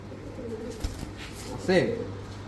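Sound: pigeons cooing

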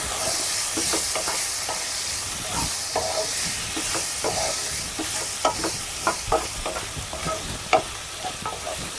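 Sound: stirring mushrooms and spring onions in a pan

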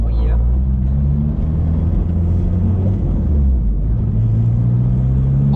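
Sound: 1981 VW Caddy Mark One engine turbo noises

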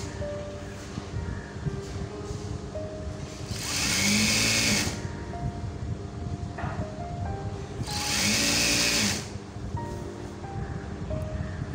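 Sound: sewing machine stitching churidar fabric along the fold

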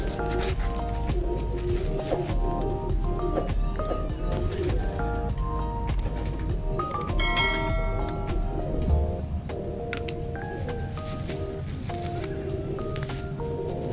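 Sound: weak pigeon

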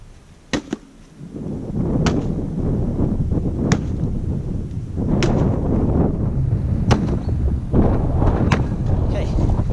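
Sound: wind blowing outdoors

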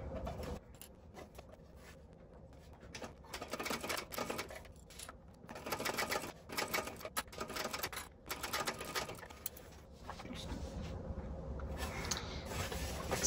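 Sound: sewing machine stitching a bag seam

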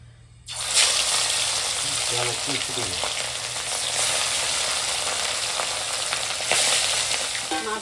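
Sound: fish frying in oil

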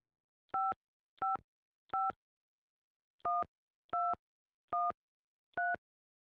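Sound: telephone keypad dialing tones

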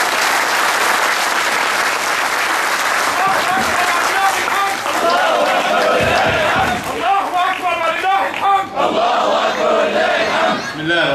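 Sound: crowd applauding and cheering at party conference

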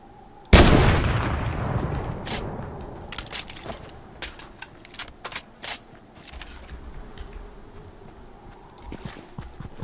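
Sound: gunfire in the Fortnite video game

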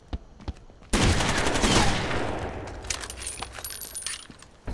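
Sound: gunfire in video game Rainbow Six multiplayer

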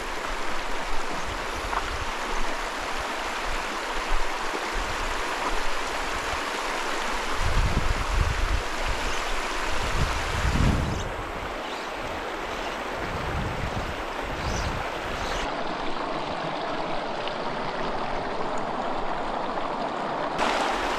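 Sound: mountain stream flowing

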